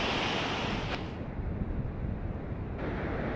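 Ocean surf washes onto a wide Washington beach, a broad, steady roar of breaking waves with some wind noise and no talk.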